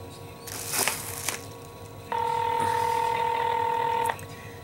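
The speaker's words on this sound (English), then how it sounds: "You hear that phone?" A telephone call begins with a quick burst of dialing tones, then a steady electronic ringback tone holds for about two seconds before cutting off, clear and close.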